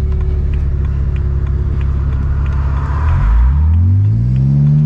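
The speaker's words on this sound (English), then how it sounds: "I think it's downshifting quite nicely." A BMW E90 with a built engine and 8HP70 automatic gearbox revs up through a downshift, a steady close cabin rumble swelling into a rising engine sweep over the final seconds, with no talking.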